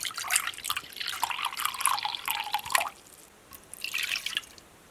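Water streams and splashes into a mixing bowl for a sourdough levain in a bright, uneven gush, stops, then pours again briefly. The pouring is close and clear.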